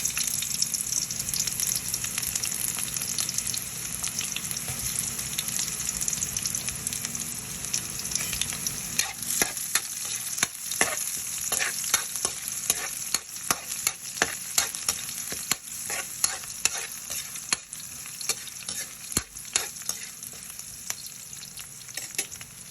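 Onions fry for chicken curry in a pan, a steady soft sizzle with repeated scraping and clinking stirs scattered through the second half, no talk.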